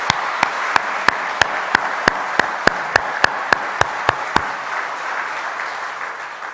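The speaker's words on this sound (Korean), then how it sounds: "하나님 앞에 우리 감사의 박수를 한번 드리겠습니다" A church congregation at a Thursday dawn healing service claps in unison, about fourteen sharp, evenly spaced claps in a quick steady rhythm that then stop, leaving quiet room tone.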